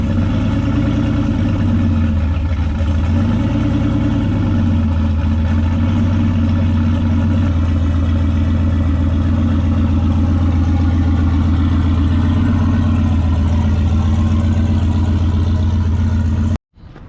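Turbocharged LS-swapped Dodge Dart running as it drives onto a trailer, a loud, continuous low engine drone that sways in pitch near the start as gas is given, then settles into a steady rumble until cutting off abruptly.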